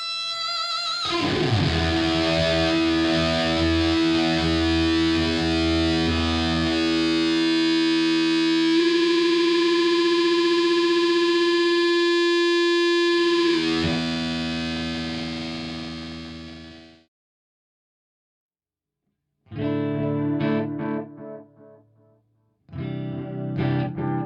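Electric guitar played through an EarthQuaker Devices Hoof Reaper fuzz and octave pedal, with thick, saturated sustained chords ringing for long stretches, then a pause and short choppy bursts near the end, no talking.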